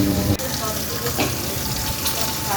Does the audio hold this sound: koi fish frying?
yes